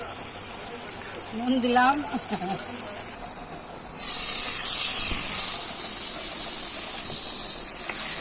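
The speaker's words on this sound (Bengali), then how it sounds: "আলুটা ভেজে নিচ্ছি ঝাপা ঝাপ করে।" Potatoes frying in oil in a pan hiss softly at first, then swell into a louder, steady sizzle partway through; a voice speaks briefly over the early part.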